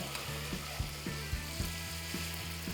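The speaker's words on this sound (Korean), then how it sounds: "새우랑 같이 볶겠습니다" Shrimp and pasta noodles stir-fry in a pan for aglio olio, a soft continuous sizzle with regular scraping strokes of a utensil roughly every half second, close and alone.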